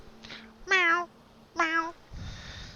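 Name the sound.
person imitating cat meows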